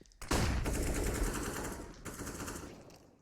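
Rapid automatic gunfire bursts loudly in a Counter-Strike match, a dense rattling stream of shots that fades slightly, then a second burst follows.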